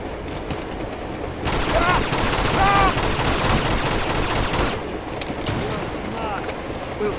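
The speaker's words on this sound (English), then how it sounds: "once I started firing with the pistol, I was like, I can't stop now" Rapid pistol shots ring out in Uncharted 2: Among Thieves, a dense run of gunfire over a few seconds set against game ambience, with voices talking alongside.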